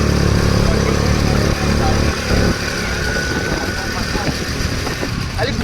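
An Activa scooter's small engine hums and rattles loudly close by as it rides past on a village street, fading slightly toward the end while people talk.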